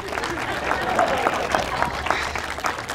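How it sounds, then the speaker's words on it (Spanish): A crowd at a live clown comedy show breaks into loud, steady applause, with clustered claps and crowd noise filling the space for a few seconds. "¡Aplaude, Lalo!"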